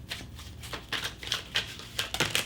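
Tarot cards shuffled by hand in a steady run of soft, papery riffles and flicks, close up and moderately loud, with no talking over them.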